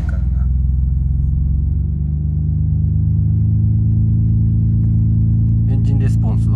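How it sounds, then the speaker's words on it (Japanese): Nissan R32 Skyline GT-R with an RB-series engine, revived after six months off the road, idling loud and steady with a deep rumble, then a short burst of blips near the end. "エンジンレスポンスはこんな感じですかね。"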